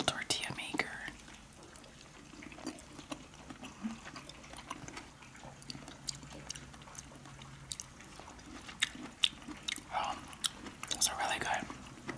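Spanish tortilla de patatas is eaten up close in soft, moist chewing and biting, with irregular smacks and squelches running throughout, along with quiet whispering.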